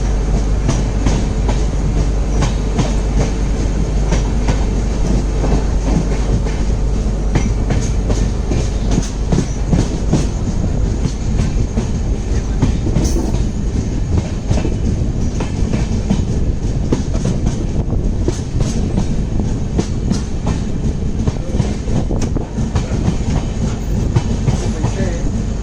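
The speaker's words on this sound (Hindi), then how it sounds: "it's a very important train in this section" Netravati Express passenger train running between Khed and Madgaon, heard from on board: loud continuous rumble with steady clickety-clack of wheels over rail joints throughout, dense and close.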